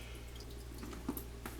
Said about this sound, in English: We're going to rinse off the extra starches and stuff from it. Just pour that out.